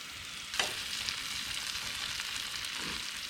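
Sesame oil sizzling in a pan at a campsite, a steady close frying hiss with a couple of brief stirring scrapes.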